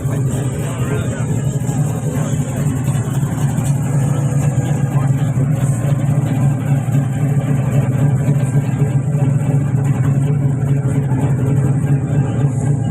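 A vintage car's engine runs steadily at an outdoor old-car show in California, a continuous mid-pitched drone that stays at an even, loud level throughout.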